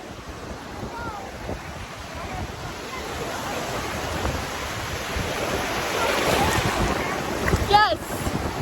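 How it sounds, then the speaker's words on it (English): Ocean waves at a beach, a continuous loud wash of surf under heavy wind buffeting the microphone, swelling toward the end with brief bright splashes. "We're going to jump the waves."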